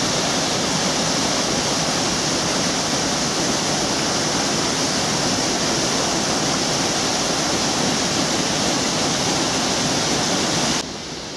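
Water pours steadily over a weir on the River Medway near Ashurst, a loud, continuous broadband rush that stays even and unbroken before cutting off abruptly at the very end.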